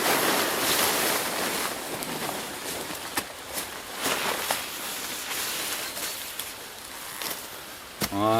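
A river flows beside a bushcraft bivouac, giving a broad, continuous rushing wash that swells and eases with gusts of wind across the microphone, plus a few sharp knocks and a brief rattle near the end.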